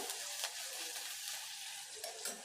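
Small shallots and curry leaves sautéing in a pan give a steady, faint sizzle with a few soft stirring scrapes, quiet and uninterrupted.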